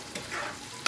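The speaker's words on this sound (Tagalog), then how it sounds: "Kailangan natin halo yan kasi pag hindi nyo hinalo" Sardine omelette mixture stirred in a pan, a soft scraping swish with a faint sizzle beneath, brief and close, ending in a sharper clink.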